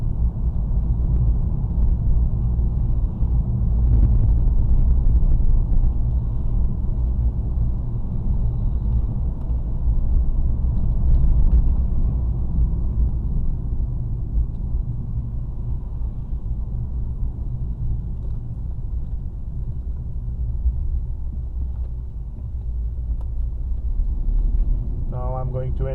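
Road noise inside a moving car with the windows shut: a steady, muffled low rumble runs throughout, fairly quiet and even, with a brief faint ticking near the end.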